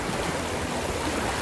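River water from the Ganges flows in a steady, broadband rush, close and continuous with no voices over it.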